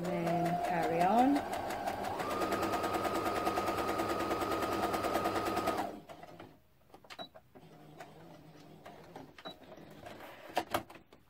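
Sewing machine stitching a quilt seam, a steady close whirring run for several seconds that stops, followed by quiet handling clicks.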